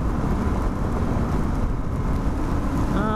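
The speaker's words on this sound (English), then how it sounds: "It's getting a little rainy here." Heavy rain and gusting wind during a ride on a Suzuki DR650 motorcycle, a dense constant roar of wind buffeting and rain noise mixed with low engine rumble, loud and unbroken.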